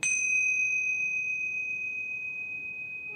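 A Tibetan bell struck once, its pure ringing tone sustaining and slowly fading as it resonates alone for several seconds.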